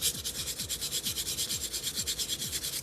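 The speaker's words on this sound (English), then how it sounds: "So you sand it, including the decoupage." Light hand sanding over a decoupage craft piece, a steady run of about a dozen even back-and-forth rubbing strokes, close and alone with no talking.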